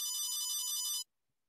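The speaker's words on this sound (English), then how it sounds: "Is that your cell phone?" A cell phone ringtone chimes at steady volume in a quiet office for about a second, then cuts off abruptly into silence.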